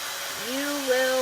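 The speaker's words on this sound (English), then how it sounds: "I'm going to zap it with my heat tool" Heat tool blowing steadily to dry paint on a stencilled chalkboard, a continuous whirring hum with a rising tone that settles and holds, close and moderately loud, no talking over it.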